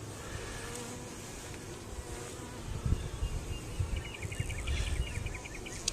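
Honey bees buzz in an opened beehive during a checkerboarding inspection, a continuous close humming drone that swells toward the end, with some handling knocks mixed in.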